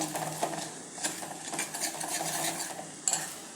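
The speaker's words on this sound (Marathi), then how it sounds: "हे बेसन असं तेलावर व्यवस्थित थोडं परतून घ्यायचं" Gram flour (besan) is stirred in oil in a pan, giving soft, continuous scraping and a faint sizzle, with light clinks of the spoon against metal.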